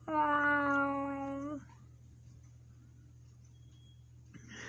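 A cat gives one long, loud, close meow that fades into quiet room hum, followed by faint rustling.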